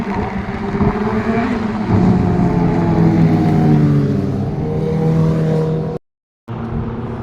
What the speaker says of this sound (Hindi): और पीछे गई अभी हायाबुसा, फुल आवाज़ आप लोगों ने सुन ली होगी